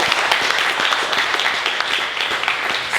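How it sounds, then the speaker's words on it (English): Audience applause at a company values roadshow event: a dense, steady round of many hands clapping, loud and continuous throughout with no pauses. "I think you deserve a real big round of applause"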